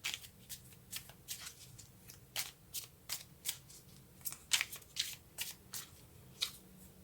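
Tarot cards being shuffled by hand, a quick series of crisp riffling bursts in a steady rhythm, close and clear with no talking.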